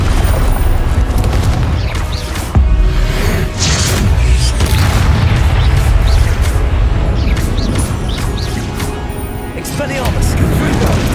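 Repeated blasting-spell explosions from a Hogwarts Legacy combat fight: loud booming bursts with crashing debris come one after another over about eleven seconds, thick low rumble throughout, with game voices and effects layered in.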